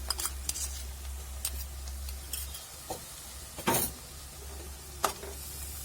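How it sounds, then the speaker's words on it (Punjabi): Ginger-garlic paste frying in a pan with browned onions while being stirred, with a low steady sizzle broken by scraping spoon strokes and clinks against the pan, close and moderately quiet, no talking. "ਦੋ ਮਿੰਟ ਲਈ ਇਹਨਾਂ ਨੂੰ ਇਸੇ ਤਰ੍ਹਾਂ ਭੁੰਨਾਂਗੇ ਤਾਂ ਕਿ ਲਸਣ ਦਾ ਕੱਚਾਪਨ ਨਿਕਲ ਜਾਵੇ"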